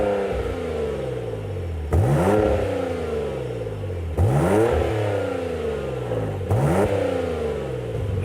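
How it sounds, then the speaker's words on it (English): A Porsche Macan GTS with an ARMYTRIX cat-back exhaust, valves closed, revved three times in quick succession, each blip rising sharply and then falling away, the engine sound fairly muted and close. "let's hear what it sounds like with the valves closed"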